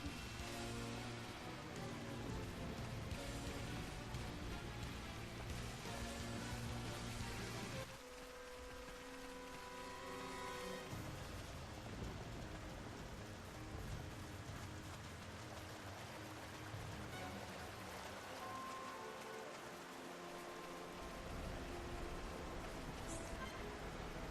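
Steady rain falling in the video game Xenoblade Chronicles: Future Connected, a dense continuous hiss throughout, partly masked by game music and sounds.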